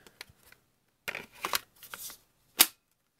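Knock-off M28-style 5.0 Ah battery clicking onto a Milwaukee M28 straight grinder in a shop: a few soft handling rustles, then a cluster of plastic scrapes and a single sharp latch click near the end.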